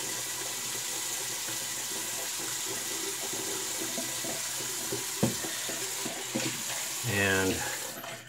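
Warm water runs from a tap and splashes as a face is wetted before a shave. A steady hiss of flow sits close by, and a brief louder splash and patting come near the end.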